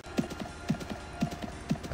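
Horse hooves clip-clop at an even trotting pace in the Mabinogi video game, four distinct, fairly quiet hoof strikes about half a second apart.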